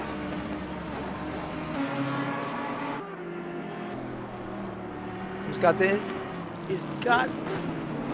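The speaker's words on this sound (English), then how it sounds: "hopefully you can still hear the car as well" A GT3 race car engine in a video game drones with shifting pitch, rising and falling through gear changes, with sharp whooshing passes near the end, at Laguna Seca.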